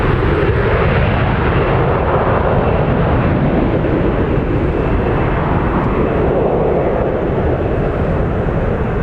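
A passenger jet roars loudly and continuously at Toronto Pearson airport during a departure, a dense broadband engine rumble that fills the whole stretch with no let-up.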